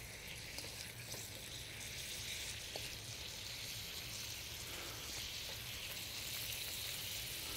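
Shrimp sautéing with garlic in a pan for shrimp fried rice, a quiet, even crackling sizzle that runs steadily with occasional faint ticks, no talking.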